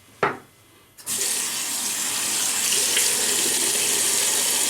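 A tap is turned on after a brief knock, sending a steady, loud stream of water into a sink that runs on without pause, with no talking.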